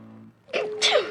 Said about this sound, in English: That sneeze was in a different zip code